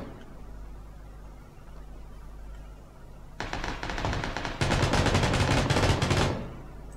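Machine gun fire in PUBG rattles out in two loud rapid bursts, the second heavier and sustained, after a stretch of low ambient noise.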